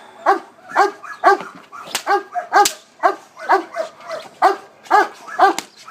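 A Giant Schnauzer protection dog barks during bite training, a steady run of about a dozen loud, close, evenly spaced deep barks with no talking.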